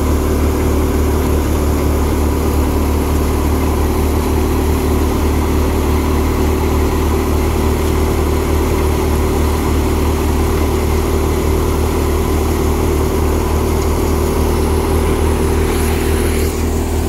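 A thresher machine driven by a 2020-model tractor runs steadily and loudly, with a constant droning engine hum and mechanical rattle and no break over the whole stretch.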